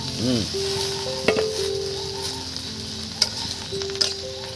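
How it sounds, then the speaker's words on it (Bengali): Cut eggplant tipped into a pan of frying onions gives a continuous sizzle with a few sharp clinks of a utensil against the pan, and a faint voice-like tone in the background. "এবার এর মধ্যে কেটে রাখা যে বেগুনগুলো আমি ঢেলে দিচ্ছি"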